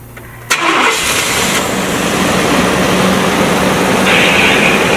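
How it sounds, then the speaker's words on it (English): A Chevrolet Tahoe engine, just repaired with a new exhaust valve, cranks briefly and catches, then settles into a loud, steady, close idle that runs smoothly for several seconds with no talking. "With the new exhaust valve in and the engine all back together, we're ready for our first startup."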